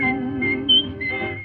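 A clear, sustained whistled melody carries through a 1950s-style crooner song, bright whistled notes over soft orchestral backing with no singing in this moment.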